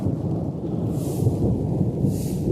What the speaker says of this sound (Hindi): बिजली जबरदस्त कड़क रही।